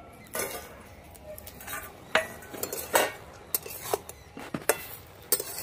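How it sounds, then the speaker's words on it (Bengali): A metal lid comes off a cooking pot of boiled cabbage with a series of sharp clinks and clatters, close and fairly loud, spaced irregularly over a quiet background. "ঢাকনাটা খুলে দেখে নেব।"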